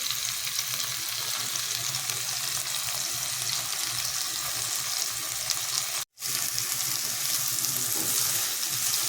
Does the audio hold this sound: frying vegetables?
yes